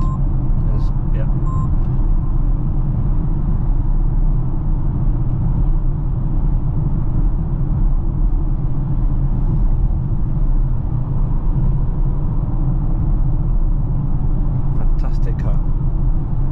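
A Polestar 2 Dual Motor car drives on the road at around 60 mph, heard from inside as a loud, constant low rumble of road and tyre noise that stays even throughout.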